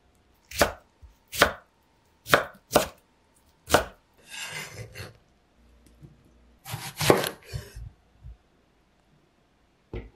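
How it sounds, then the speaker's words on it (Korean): A knife chops through steamed cabbage on a cutting board in a series of sharp, close thuds, followed by softer scraping and a few more cuts; no talking. "찐 양배추도 먹기 좋게 써세요."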